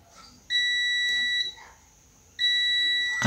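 A multimeter in continuity mode, used to test capacitors on a laptop motherboard, gives two loud, steady electronic tones about a second long each, separated by a short pause.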